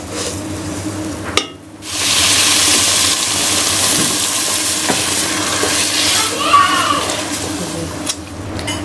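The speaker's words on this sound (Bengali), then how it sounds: "পানি দেওয়া শেষ" Water poured into a new pot of frying spiced rice, first a sharp hit, then a loud rushing hiss and bubbling sizzle that holds steady, with a few utensil knocks.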